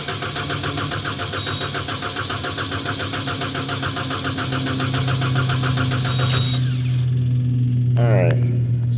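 A cold diesel engine on equipment at a Chinese auction cranks repeatedly in a loud, rhythmic churn without catching, then goes quiet as a short mechanical rattle follows near the end.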